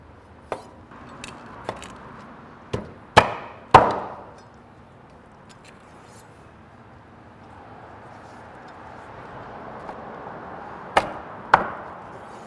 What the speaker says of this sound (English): I wanna take the backbone and the neck, chop them down into some more manageable sized pieces